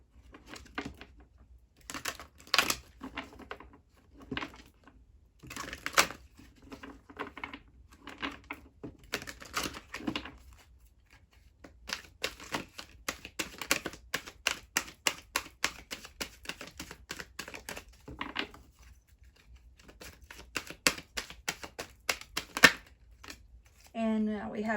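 A deck of Angel Answers Oracle cards is shuffled by hand in a quiet room, giving repeated soft, crisp riffling bursts in uneven clusters with short pauses between them.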